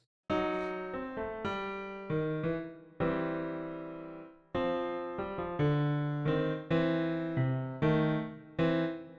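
A solo piano plays a bouncy boogie-woogie riff, with repeated chord stabs over a rolling bass line in a steady swinging rhythm, clear and close.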